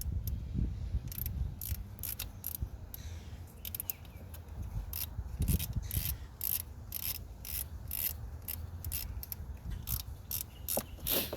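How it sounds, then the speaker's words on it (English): Rusted 10mm bolt being hand-tightened and wrenched back into place on a 2003-2009 Toyota 4Runner engine: soft scraping, rubbing and metallic ratcheting clicks in irregular bursts, close by, with no talk. "so next we're just going to be putting the 10mm bolt back on."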